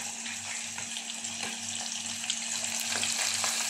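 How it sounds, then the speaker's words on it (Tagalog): Intestines (bituka) frying in a hot pan: a steady, dense sizzle and crackle that holds at an even level throughout, with no talking. "mainit na yung ating kawali. Hilagyan na natin ito. Prituin na natin siya."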